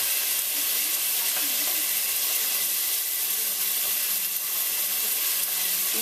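Onions, ginger and garlic sizzle steadily in hot oil, a dense, even frying hiss that holds at close range throughout with no break.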